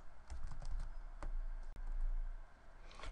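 Quick, light keystrokes tap on a computer keyboard in short irregular bursts, close by and fairly quiet, against a low steady background hum.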